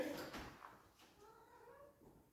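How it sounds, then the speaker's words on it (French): A house cat meowing outside to be let in, a few faint, short, plaintive cries spread across a quiet moment, the first one the loudest. "Je crois qu'il y a le chat qui veut rentrer."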